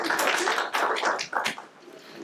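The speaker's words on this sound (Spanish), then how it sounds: "les pido un aplauso, por favor" Seminar audience applauding a student presenting a thesis project, a scattered round of hand claps that thins out and fades toward the end.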